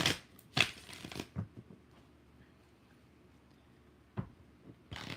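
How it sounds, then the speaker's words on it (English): Tarot cards are shuffled in a few sharp riffling bursts separated by quiet pauses, sounding close and crisp, with light handling noises between shuffles and no talking. "1 more shuffle"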